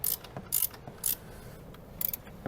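13mm ratchet spanner turning spring nuts on a Land Rover Discovery 3, several quick clicking ratchet bursts at an even pace, close up and fairly quiet.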